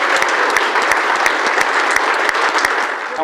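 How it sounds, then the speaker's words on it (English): An audience at the European Media Summit 2018 bursts into loud applause after a card trick, with a close, energetic barrage of hand claps and crisp individual smacks popping out of the crowd. "these guys will go crazy with applause."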